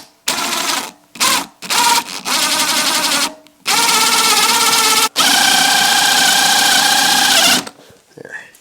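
A handheld power drill bores through a metal rivet on a chicken feeder, running in loud whining bursts that stop and restart before one long sustained run.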